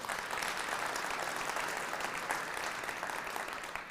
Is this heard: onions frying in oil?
no